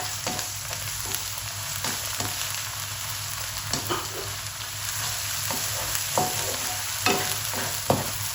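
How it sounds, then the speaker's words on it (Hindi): One tablespoon of ginger garlic paste frying in a little oil in a pan for a dhaba-style dum aloo masala, a steady loud sizzle with scattered clicks and scrapes of stirring, no talk. "अब इसके अंदर अदरक लहसुन का पेस्ट खाने का 1 बड़ा चम्मच ये डाल देंगे।"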